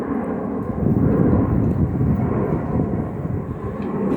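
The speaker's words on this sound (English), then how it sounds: "Plane going over, that's a rarity." A plane passes over a back garden, its low, steady engine rumble swelling slightly and then easing off across the whole stretch, with no talking.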